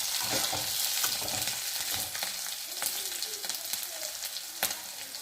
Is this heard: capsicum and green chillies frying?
yes